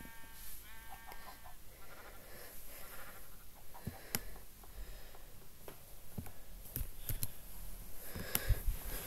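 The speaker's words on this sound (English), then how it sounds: "I've got a sheep in here with me." A sheep in the Minecraft video game gives a short wavering bleat near the start, followed by scattered clicks and soft game noises over a low steady background.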